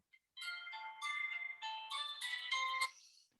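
A mobile phone ringtone plays alone in a room, a bright electronic melody of sustained tones lasting about three seconds before cutting off.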